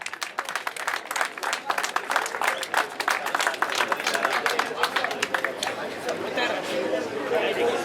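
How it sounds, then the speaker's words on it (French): An audience at an award ceremony claps as a team goes up to the podium, crisp individual claps giving way to a fuller round of applause with crowd chatter underneath. "Mérite beaucoup d'applaudissements de votre part."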